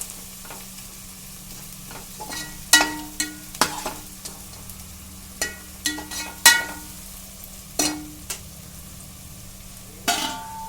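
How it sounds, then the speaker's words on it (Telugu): A spoon stirring flat beans and tomato curry in a hot pan, with irregular scraping and clinking strokes over a soft steady sizzle, close and clear, no talking. "బాగా కలిపేసుకునండి"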